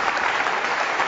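Audience applause at a snooker tournament for a century break, a brief steady wash of clapping from a crowd with no distinct voices.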